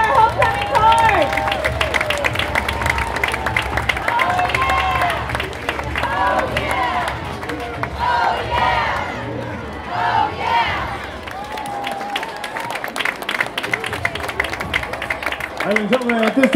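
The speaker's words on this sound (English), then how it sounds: "Let's give a loud round of applause for our homecoming court." A parade crowd cheers and claps for the homecoming court at Ohio University's homecoming, a broad outdoor roar of mixed shouting and clapping that rises and falls. Voices stand out clearly within it.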